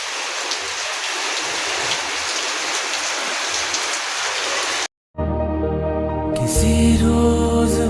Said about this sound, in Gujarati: તો ખરેખર અત્યારે વરસાદ ચાલુ થઈ ગયો.